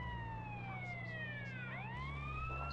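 The ambulance siren in GTA San Andreas wails in descending and rising sweeps, close and loud above a low vehicle engine hum, with no voices.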